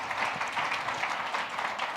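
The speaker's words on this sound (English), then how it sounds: "can we just give Rocket Lane a big round of applause for planning this event?" Audience applause at a corporate conference talk, a steady wash of many hands clapping at moderate volume, heard from a distance for two seconds.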